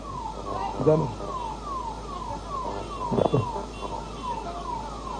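An ambulance siren wails in repeated falling sweeps at a moderate distance, steady throughout, with a crowd murmuring and a couple of brief louder voices near the mic.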